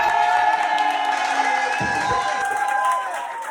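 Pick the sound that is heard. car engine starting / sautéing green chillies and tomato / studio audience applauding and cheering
studio audience applauding and cheering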